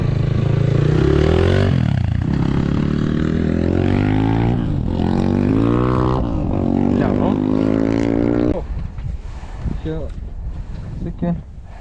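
A Geon GNS 300R motorcycle ridden through town without a muffler revs loudly and repeatedly, the engine pitch rising and falling with each throttle blip before dropping to a rough, uneven idle, with wind noise over the microphone.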